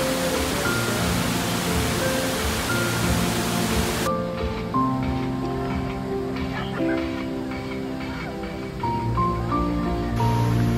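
Savatkada waterfall in dense forest in Bhudargad, a steady broadband roar of falling water that fills the whole stretch, with faint tonal bird or insect calls above it.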